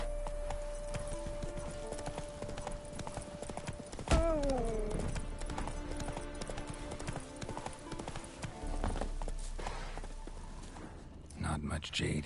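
Galloping horse in The Witcher 3 game, rapid rhythmic hoofbeats clip-clopping throughout with a neigh partway through, close and lively, with a voice talking over it.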